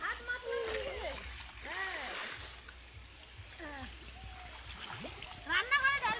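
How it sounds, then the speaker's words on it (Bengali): Water splashes and sloshes while plants are watered at home, a steady wet spattering with bursts of louder pouring, heard under someone speaking and nearby chatter. "শুধু গাছে জল দিতে ব্যস্ত।"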